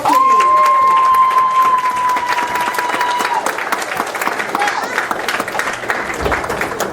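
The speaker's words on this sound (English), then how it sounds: "I need a round of applause," A crowd at a Kwanzaa celebration breaks into a round of applause, loud dense clapping with some cheering, and a sustained whistle-like tone rings over the first few seconds.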